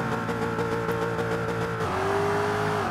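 A Land Rover engine in the Forza 5 racing game drones at steady revs, then drops to a lower pitch as it shifts gear, loud and continuous throughout.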